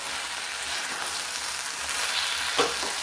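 Fresh green peas cooking in a pan over a low gas flame, giving a soft, steady sizzle and frying crackle with a brief stirring scrape near the end.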